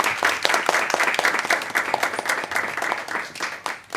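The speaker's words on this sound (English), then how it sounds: "If we could just give him a round of applause." An audience at a startup fireside chat in Helsinki gives brisk, lively applause, with distinct individual claps audible within the dense, fairly close crowd sound.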